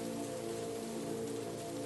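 Rain falling steadily in a garden planted with basil, as a constant even patter and hiss with no breaks and no voices.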